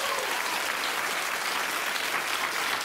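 A crowd applauds steadily, dense clapping filling the whole stretch at a fairly even level.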